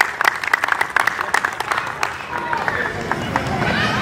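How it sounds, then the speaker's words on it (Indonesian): Steady crowd applause at an outdoor Christmas float parade, dense overlapping claps, loud and sustained throughout, with a faint murmur of voices underneath. "mari kita beri tepuk tangan yang meriah buat kebaikan Tuhan"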